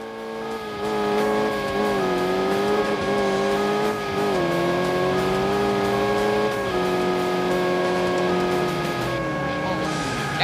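Car engine droning steadily in Crash Time 3, a driving video game, with a sustained, rising and falling motor tone throughout and no distinct crash impact standing out; a voice may murmur faintly underneath.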